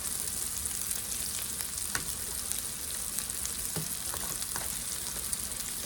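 Steak for an egg bake sizzles and fries steadily in a pan, a soft continuous crackle with occasional sharper pops and a few light utensil scrapes, close and unaccompanied by voices.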